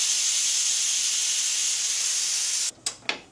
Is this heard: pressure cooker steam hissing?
yes